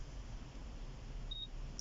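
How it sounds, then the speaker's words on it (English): A single short, high-pitched confirmation beep from a Nissan Qashqai radio preset button, faint and brief against a quiet, low cabin hum. "Just long press the button until you hear that little high-pitched beep"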